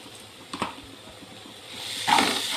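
Pomfret fish sautéing in a pan for a Bengali recipe, giving a soft, steady hiss with a couple of faint clinks early on, the sizzle swelling louder toward the end.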